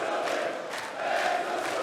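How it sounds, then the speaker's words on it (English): Crowd cheering at a darts match at the Austrian Darts Open, as the Suljovic family roots for their husband and father; a steady, dense roar of voices holds throughout, swelling slightly toward the end. "The family Suljovic here, cheering on their husband and dad, respectively."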